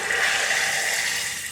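Liquid pours steadily into a crock pot of black-eyed peas in a continuous splashing stream, close and fairly loud, with no talking.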